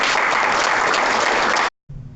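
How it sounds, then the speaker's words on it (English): Applause from a tech meetup audience at a lightning talks event, dense and steady for under two seconds, then cutting off abruptly before a low murmur resumes. "You're gonna give us a little clap?"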